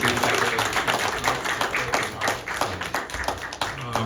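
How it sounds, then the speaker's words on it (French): A church audience applauds a preacher with steady, dense clapping that fills the room, continuous and fairly loud throughout. "Nous applaudissons chaudement"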